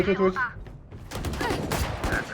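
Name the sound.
gunfire in the video game Valorant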